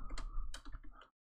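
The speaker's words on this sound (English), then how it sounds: "And then go ahead and type in the IP address" A few quick keystrokes on a computer keyboard while entering an IP address into a Palo Alto network configuration, close and soft clicks in a short burst, then silence.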